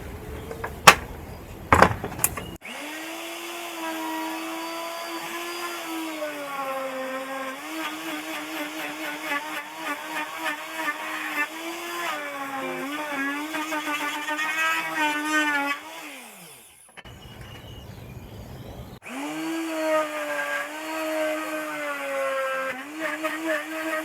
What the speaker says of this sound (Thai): เจาะกันเลยครับ